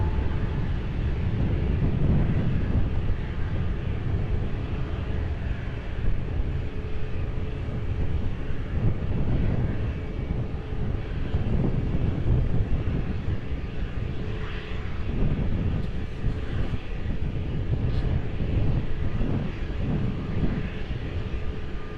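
An airliner roars through its takeoff run at Lisbon Airport, a loud, steady, broadband engine rumble that holds for the full stretch, with light wind buffeting the microphone.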